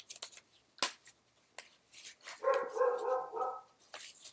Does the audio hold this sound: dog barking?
yes